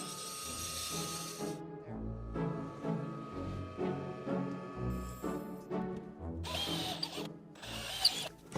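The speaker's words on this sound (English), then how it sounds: "I know what I'm going to do. A reamer." A reamer is worked through a hole in wood, giving intermittent grinding, whirring bursts with brief pauses between passes, fairly close and quiet.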